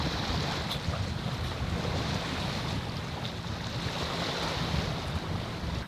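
Wind and waves aboard a sailboat running downwind wing on wing in about 15 knots of wind, a steady broadband rush of water and wind buffeting the microphone, loud and continuous.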